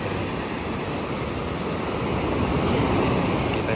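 Rough sea waves crashing on the shore make a continuous, loud, wind-blown roar that surges slightly stronger partway through.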